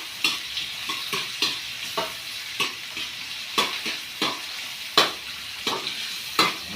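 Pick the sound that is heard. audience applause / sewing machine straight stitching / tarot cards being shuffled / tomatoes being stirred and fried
tomatoes being stirred and fried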